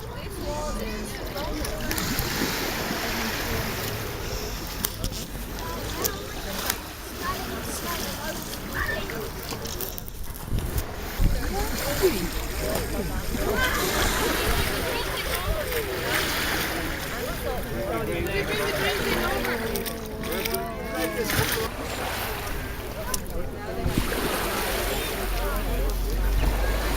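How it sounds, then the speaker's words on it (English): Waves wash in and out around a rocky point, with sloshing surges and splashes rising and falling under gusty wind. "the water coming in and out of the point is still coming in"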